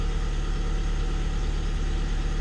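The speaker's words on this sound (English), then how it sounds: "Engine just kicked in." Petrol engine of a plug-in hybrid car idling steadily after kicking in, a continuous low rumble with a constant droning hum, close and even throughout with no talk.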